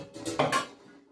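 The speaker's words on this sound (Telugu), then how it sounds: "నేను కుక్కర్ తీసుకున్నాను." Metal pressure cooker lifted and handled in a home kitchen, a brief clatter of a few light metallic knocks with no talk.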